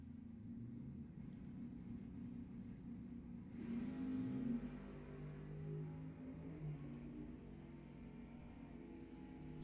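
Drag-racing Camaros, an 86 and an 87, launch down the Lebanon Valley Dragway strip, a loud engine roar surging midway and holding as a sustained rumbling rev, heard from trackside.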